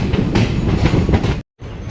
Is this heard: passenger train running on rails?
yes